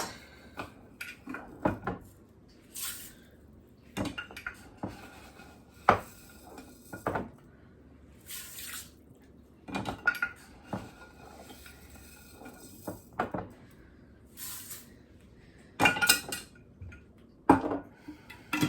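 Rice is scooped into a crockpot with a half-cup measuring scoop, giving scattered sharp clinks, scrapes and taps of the scoop against dish and pot, with pauses between them in a quiet kitchen.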